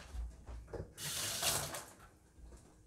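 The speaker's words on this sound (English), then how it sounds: "cover that brisket, cover that meat with water" Water pours from a tap into a cooking pot holding corned beef brisket and vegetables, a bright rushing splash lasting about a second, followed by softer trickling and faint kitchen clatter.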